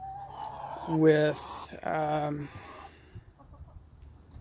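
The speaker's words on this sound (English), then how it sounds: "sorry, I'm watching the chickens, they're acting silly" Rhode Island Red hens at a backyard chicken tractor with a nesting box, giving a couple of loud close squawking clucks in quick succession, then quieter background as a person speaks briefly.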